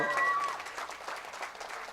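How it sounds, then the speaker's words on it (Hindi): An audience at a mushaira poetry event in a college auditorium applauds to welcome a female poet to the stage. The applause is soft and distant, a steady patter with voices mixed in. "तालियों से इस्तकबाल करें मोहतरमा अंजुम रहबर।"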